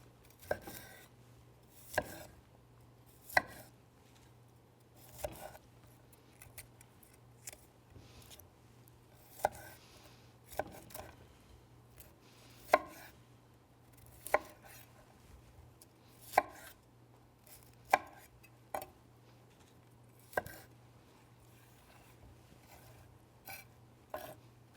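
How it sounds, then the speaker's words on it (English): A knife chops cauliflower into bite-sized florets on a cutting board in a home kitchen, with sharp, evenly spaced cuts about one every second or two over a low steady hum. "we're just going to dice this up into just common florets"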